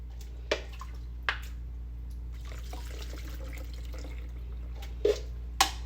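Homemade Jamaican sorrel punch poured into a pitcher, a quiet trickling and splashing of liquid over a low background hum, broken by a few sharp clinks and knocks.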